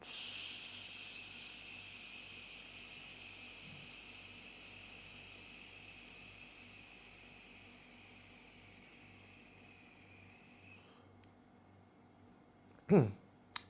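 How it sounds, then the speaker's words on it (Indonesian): A group in a morning breathing therapy session lets out a long, soft, hissing exhale that fades gradually over about ten seconds, faint and steady, followed by a brief sharp knock near the end. "Tidak usah ditahan, langsung hembuskan."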